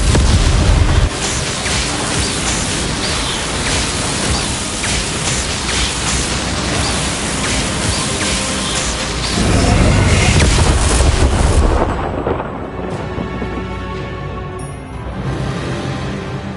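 Repeated Confringo blasting-spell explosions from the Hogwarts Legacy video game, loud dense booming and crackling bursts that run continuously, swelling around the middle before giving way to a thinner rumbling tail.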